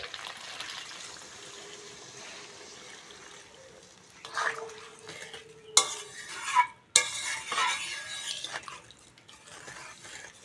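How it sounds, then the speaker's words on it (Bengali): Water poured into a pan of papaya fried with spices for an egg curry, giving a quiet simmering hiss followed by a few bursts of sizzle and splashing as the liquid hits the hot pan. "মশলার সঙ্গে ভালো করে পেঁপেটা কষে নিয়েছি এবার জল দিয়ে দেবো জল"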